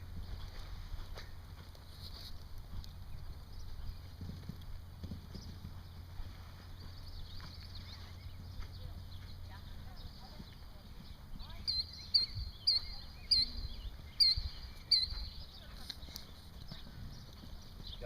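A horse cantering during a show-jumping riding lesson, its hoofbeats soft and muffled at first, then a run of sharper, rhythmic thuds later on, with faint wind and an instructor's voice now and then.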